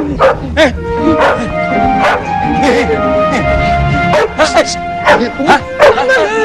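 A dog barks and yips in sharp, repeated bursts, close and loud, over excited shouting voices.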